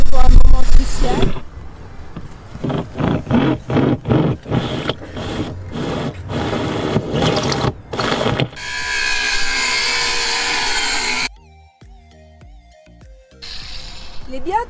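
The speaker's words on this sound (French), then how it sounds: "il n'y a plus qu'à forer les trous pour fixer les deux pattes du dessus" A power drill boring holes for the upper brackets of a Fiamma bike rack on a Hymer ML-T 580 motorhome comes in repeated loud whirring bursts, then a longer sustained run, with talk and other mechanical sounds around it.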